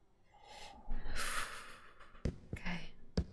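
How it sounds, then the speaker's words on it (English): Ghostly breathing in the horror video game Phasmophobia: a few sharp, close snort-like breaths and gasps, with a breathy swell in the middle, over a low ambient background. "I can hear breathing."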